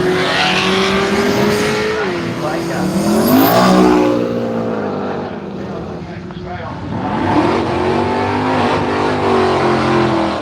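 A silver and maroon VK Commodore race car at a drag racing strip revs hard and accelerates away with rising engine pitch and tire noise, loud and close, then fades before another engine swells, with a commentator talking over it.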